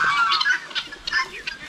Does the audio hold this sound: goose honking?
yes